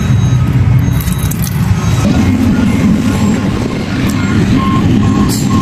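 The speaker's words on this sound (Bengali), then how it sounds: "আর এদিকে কনস্ট্রাকশনের কাজ চলে, রোডের প্রচুর গাড়ি।" Busy road traffic and construction vehicles near a seaside resort in Bahrain, a loud, continuous low engine rumble with a truck's reversing beeps and faint higher tones coming and going.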